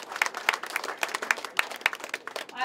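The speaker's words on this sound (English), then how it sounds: "They deserve a real applause here." Audience clapping at a breakfast community event, a modest crowd giving brisk, uneven applause with sharp individual claps standing out, fairly close.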